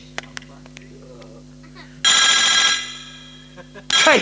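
A telephone rings for an incoming call in two loud, bright bursts of trilling bells. Each burst stands well above the quiet background, the first lasting under a second and the second cut short.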